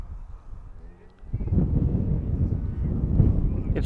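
Wind buffets the microphone at a radio-controlled model flying field, a low rumbling roar that starts quietly and swells loud and steady after about a second, close and continuous.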